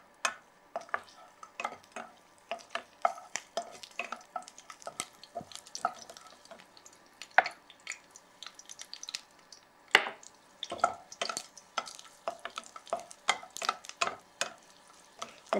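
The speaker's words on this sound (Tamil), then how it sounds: "இப்போ இந்த கொஞ்சமாக எண்ணெய் ஊற்றி வச்சுருக்கேன், இதில் வந்து முதல்ல பூண்டு சேர்த்துக்கிறேன்." Garlic fries in a little oil in a pan, giving quiet sputtering crackles and small pops scattered irregularly throughout, soft and close with no voices.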